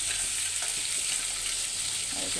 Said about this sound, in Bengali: প্রথমে আমরা এগুলোকে ভেজে নেব কাঁকড়াগুলোকে সুন্দর করে